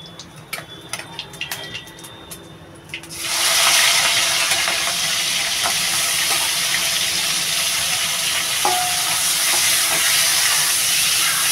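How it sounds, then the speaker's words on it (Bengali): Prawns hit hot oil in a pan and burst into a loud, sustained sizzle that starts suddenly and keeps hissing steadily, following a few quieter kitchen clatters; no one speaks. "আমি এবার এই তেলের ভিতরেই চিংড়ি মাছটা ঢেলে দেবো।"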